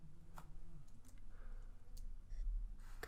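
Computer mouse clicks while working in mapping software, a handful of sharp, quiet clicks scattered over a few seconds, with a double click near the end, close up against a low room hum.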